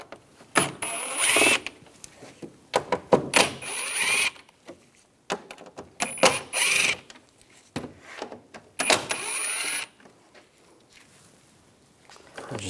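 A T25 socket on a ratchet backs out the top headlight screws on a Volkswagen GTI, producing close bursts of clicking and whirring separated by brief pauses.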